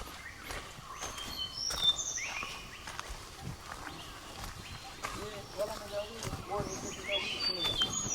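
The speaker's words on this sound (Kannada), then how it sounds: "ಬರ್ಡ್ಸ್ಗಳ್ದು ಸೌಂಡ್ ಬರ್ತಾ ಇದೆಯಲ್ಲ" Birds chirp and call in a coffee estate, with short, bright, fairly faint tweets scattered across the scene over a steady outdoor background; voices can be heard at times.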